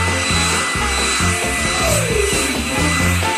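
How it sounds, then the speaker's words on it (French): Hair dryer blowing on a chocolate cocktail, a loud steady whooshing roar held close throughout with a slight rise and fall in tone. "Avec un sèche-cheveux."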